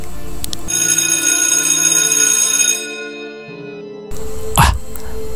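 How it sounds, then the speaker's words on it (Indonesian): A phone app chimes to announce an incoming motorbike-taxi ride order at night, a loud tonal melody that rings for about three seconds and fades, followed by a short throat-clearing sound. "Tiba-tiba terdengar notifikasi berbunyi."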